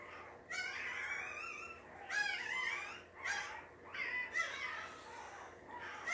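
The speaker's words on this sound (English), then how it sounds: "Boy, our puppies are having a time tonight, aren't they?" Puppies whimpering and yipping in high, wavering cries that come in repeated bursts with short pauses, fairly close and with no talk over them.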